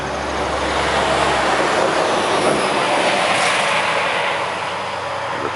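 A Metro-North commuter train passes close to a hiking trail near Fort Montgomery, New York, with a loud continuous roar and rumble of wheels on rails, a faint squeal and a slight fade near the end.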